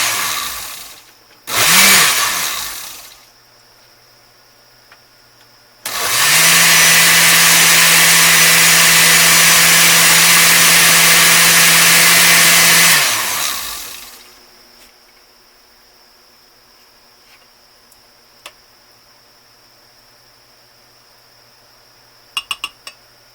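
A countertop blender pulses onions for a sugar-free sweet and sour dressing: a short burst, then a sustained loud motor run of about seven seconds that winds down, followed by quiet with a few faint knocks.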